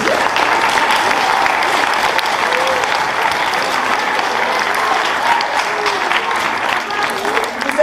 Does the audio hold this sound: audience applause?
yes